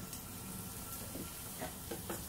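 Asafoetida, bay leaf, cumin and spices sizzle softly in a tablespoon of hot oil, a faint steady hiss with a few light crackles near the end.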